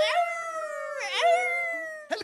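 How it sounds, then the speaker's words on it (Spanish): Coyotes howl in long, sustained, gliding tones, two drawn-out calls that rise and fall clearly and closely, ending with a short yelp. "Y los coyotes aullaban el oeste."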